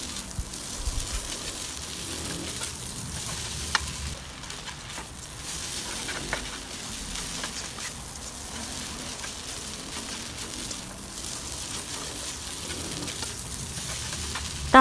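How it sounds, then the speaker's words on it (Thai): Instant Mama noodles with holy basil are stir-fried in a pan, giving a soft, continuous sizzle with faint scraping of stirring, moderately quiet and close, with no talk. "ใส่ใบกะเพราลงไปใส่ลงไปพร้อมกันเลยนะคะ แล้วก็ทำการผัดต่อค่ะผัดคลุกเคล้านะคะ"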